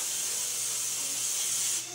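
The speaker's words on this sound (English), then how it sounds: "let's spray some Lysol too" Lysol disinfectant spray released in one continuous close hiss lasting nearly two seconds, bright and steady before cutting off.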